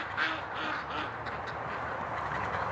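Ducks quack in a winter yard near ice, a steady flock chatter of repeated calls that stays close and fairly loud throughout, with no talking over it.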